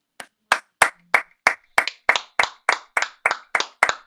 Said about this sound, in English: I don't know, but he's clapping too